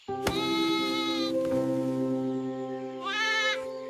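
A goat in an animated story gives a couple of shrill, wavering bleats, one at the start and another near the end, over a steady tonal background.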